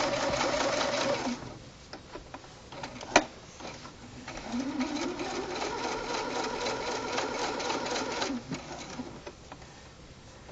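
A sewing machine stitches a small fabric keychain diaper, with rapid mechanical whirring bursts, a pause and a sharp click, then another sustained stitching run, close and clear.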